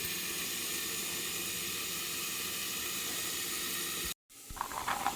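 Coconut pieces fry in a pan for a red masala, giving off a steady broadband sizzle and hiss that cuts out abruptly near the end, then resumes as a rougher crackle, close and even, with nobody speaking.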